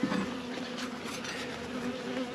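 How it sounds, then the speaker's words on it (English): Bees robbing out a dead hive that froze over winter, giving a steady, close insect buzz and hum that carries alone throughout. "the bees have robbed it out"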